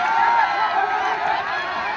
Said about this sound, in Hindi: एक बार जोरदार ताली से नेताजी का स्वागत किया जाए।